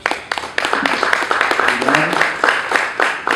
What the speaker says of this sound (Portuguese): Salve de palmas, senhores.